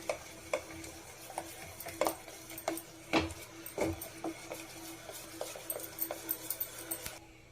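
Gram flour and rice flour mixed in a small bowl with a spoon, a run of quiet, irregular clinks and scrapes, with a few sharper taps of the spoon against the bowl.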